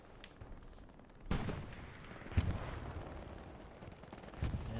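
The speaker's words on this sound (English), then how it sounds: "Throwing some lead down at this trench line on the MG" Machine gun fire aimed at a trench line in a video game battle, heard as a few distant, muffled bursts and thuds under a low ambient rumble, fairly faint with no voices.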